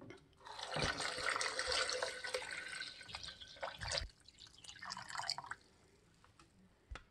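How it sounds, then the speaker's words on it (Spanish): Water pours into a blender jar holding banana peel, a splashing, gurgling stream that runs for several seconds before tapering to faint drips, close and moderately quiet. "La introducimos en el vaso de la licuadora y a continuación agregamos el agua."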